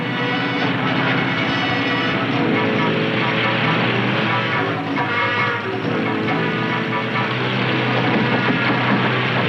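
A loud, steady helicopter drone with a whining engine tone, continuous and close throughout, as the helicopter tracks a darted white rhino.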